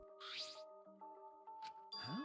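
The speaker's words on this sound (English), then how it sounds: "And now the doorbell won't stop ringing." Doorbell in the video game Danganronpa V3: Killing Harmony ringing repeatedly, a series of clear electronic chime tones in quick succession with bright tonal overtones, heard alone without talk.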